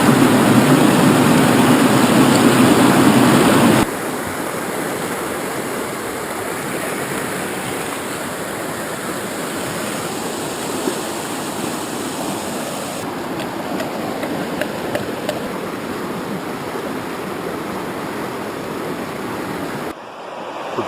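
A river flows steadily beside a campsite in the wild, its continuous rushing wash loud and close throughout, with a brief quieter moment near the end.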